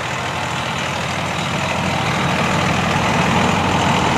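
A Hitachi ZX350 excavator with a motor rebuilt 2,000 hours earlier, its diesel engine running in a steady, loud low rumble with no talk over it.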